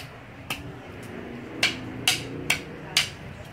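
Several sharp hammer blows smash a potato, about five impacts spaced irregularly, close by and fairly loud over a quiet background.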